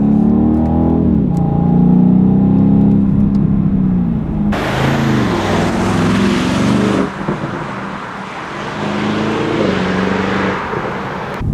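A 2019 BMW M850i xDrive coupé engine revs loudly and drops through the gears, with a few sharp exhaust crackles and pops over the deep rumble, heard up close from the cabin.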